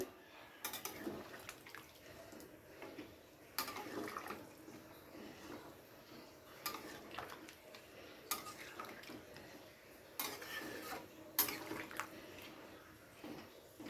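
Spatula scraping and clinking in a pan as potol (pointed gourd) and prawn curry is stirred, with repeated bursts of metallic scraping and faint wet sloshing, fairly quiet and close, with no talking.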